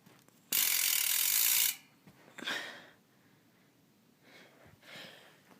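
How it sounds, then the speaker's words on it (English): The rear hub freewheel on an Eastern Grim Reaper BMX bike buzzes in a loud, rapid ratchet burst lasting about a second, followed by a few fainter, shorter clicking spins, close up with no talk. "Now I'll do a hub check, or a hub sound."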